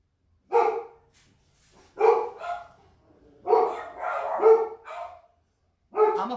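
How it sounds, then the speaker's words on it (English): Several dogs bark in loud bursts, a few sharp barks at a time with pauses between, fairly close by in a quiet indoor setting. "I don't know why they're barking"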